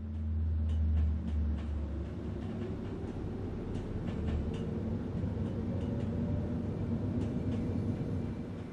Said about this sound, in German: Sie fahren derzeit einen Elektrotriebzug Class 3774.